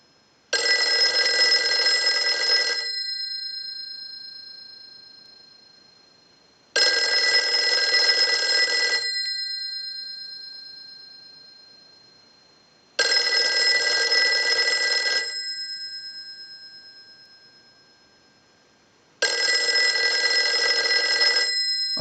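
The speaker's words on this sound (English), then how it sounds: "use the analyzer and send a ring cycle like you were getting a call" A Western Electric 354 rotary wall telephone bell rings in four long bursts of a few seconds each, separated by quiet pauses, loud and close with no talking.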